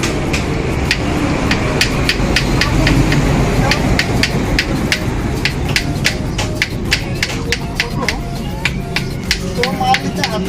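Metal hammer blows on a part of a Hero Honda Splendor motorcycle engine in a workshop, a run of sharp regular taps, close and distinct, over a low background hum.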